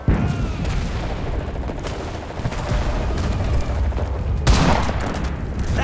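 Heavy battlefield gunfire in the video game Enlisted, with a cannon aimed at the player's squad: dense, continuous bursts of shots and booms, and one louder near blast toward the end.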